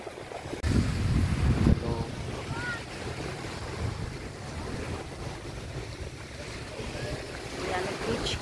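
Waves wash steadily on a sunny sea beach in Greece in the early morning, a continuous broad surf roar with wind buffeting the microphone, louder in the first two seconds and then even throughout.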